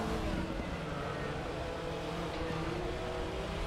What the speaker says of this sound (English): this is gonna be the last lap as I'm fighting this Porsche here